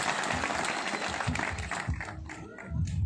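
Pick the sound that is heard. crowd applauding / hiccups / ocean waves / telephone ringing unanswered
crowd applauding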